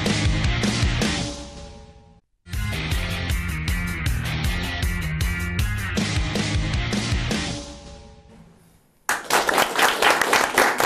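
In a TV studio show, music plays with a couple of abrupt cuts, then a burst of studio audience applause and clapping erupts loudly over the final seconds.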